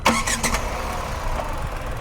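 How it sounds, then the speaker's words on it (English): A Tata Punch car engine with a changed air intake and filter cranks over and settles into a steady idle, close by, with a few sharp mechanical clicks near the start. "And if I start the engine"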